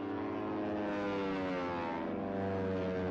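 A steady, droning aircraft engine hum with layered harmonic tones in the Panzer Corps Gold wargame, sustained and fairly quiet with no voices over it.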